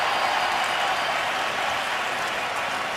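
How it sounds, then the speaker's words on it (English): Fans at an NFL game between the Detroit Lions and the Chicago Bears clap in a dense, steady wash of crowd applause that carries evenly throughout. "The fans are applauding it."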